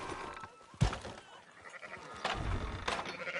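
Sheep bleat in Red Dead Redemption 2, with a couple of short bleats close by amid faint game ambience and rustling.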